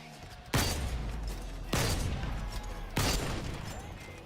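Gunfire in the video game Splitgate 2: three loud, sharp shots spaced about a second apart, each with a decaying tail, and no one talking.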